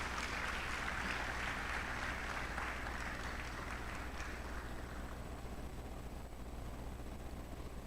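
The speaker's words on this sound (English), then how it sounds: "a round of applause" Audience applause at a DoSA Day 2026 award ceremony as an award is collected on a bishop's behalf, a steady dense wash of clapping from a large crowd that continues evenly throughout with a constant low hum beneath.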